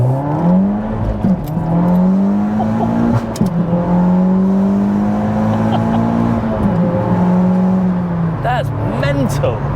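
A 2-litre-swapped, all-wheel-drive SEAT Ibiza Cupra revs and accelerates with a loud, rising engine note that climbs and falls through gear changes, heard from nearby while people talk over it.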